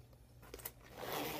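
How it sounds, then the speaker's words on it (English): A zipper on a Mitchell Blue Kipling Defea bag used as a diaper bag is pulled open in one continuous scraping run, close and fairly quiet, after a few soft handling taps. "there's a nice zipper here"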